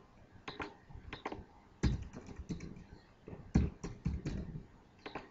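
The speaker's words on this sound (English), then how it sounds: "Then I have to type my username" Fingers type a host name and username on a computer keyboard, producing quiet, close clusters of quick clicking keystrokes with short pauses between bursts.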